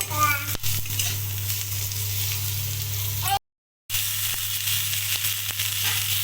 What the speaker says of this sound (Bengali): আলু কুঁদরি দিয়ে দিয়েছি, এবার আলু কুঁদরি ভালো করে ভেজে নেব।